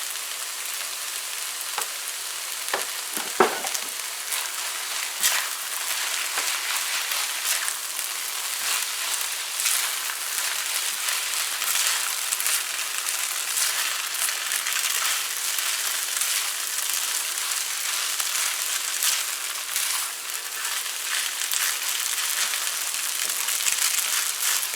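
Egg ramen noodles with black pepper and soy sauce being mixed in a hot pan: continuous close crackling and sizzling frying noise with faint scraping of stirring, steady throughout and with no talking.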